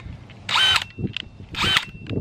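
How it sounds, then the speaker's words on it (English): Two bursts of a small electric drill whirring at high speed while spinning a paint roller in a cleaner, each about a quarter second long, separated by brief pauses and light handling clatter. "All you'll need is a little drill like that."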